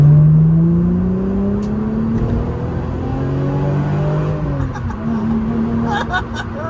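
An MG ZS V6 180 engine revs and pulls, its pitch rising and falling across a few gear changes, fairly close and loud with some road noise.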